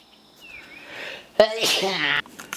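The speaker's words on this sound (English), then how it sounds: "Sorry, I sneezed." A single sharp, close sneeze bursts out after a faint breathy lead-in, then trails off into quiet.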